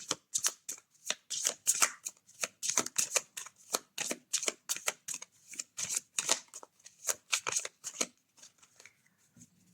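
Tarot cards shuffled by hand close up, a long run of quick papery riffles and slaps in uneven bursts, with a soft voice briefly audible near the end.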